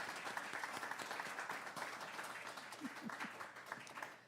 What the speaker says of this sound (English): Let's all give Leonard a round of applause for such a beautiful afternoon.